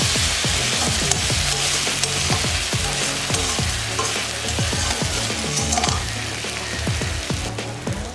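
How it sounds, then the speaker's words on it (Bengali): Small hilsa fish and pumpkin with spices sauté in a pan, a loud continuous sizzle broken by rapid, rhythmic scraping and clattering of the spatula throughout. "এবারে সব কিছুকে ভালো মতো মিশিয়ে নিয়ে কিছুক্ষণ কষিয়ে নেব"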